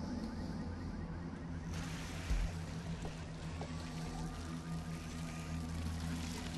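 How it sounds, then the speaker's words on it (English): A noisy diesel engine on a wood chipper in BloodRayne 2 idles with a steady, droning low hum, with faint watery ambience and a single dull thump near the middle. "Why does this wood chipper need to have a noisy diesel engine?"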